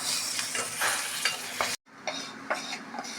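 Asafoetida, a green chili and curry leaves crackle in hot oil for a yogurt pachadi tempering, with a bright sizzle and several sharp stirring clicks, briefly cut off by a short dropout before the sizzle returns.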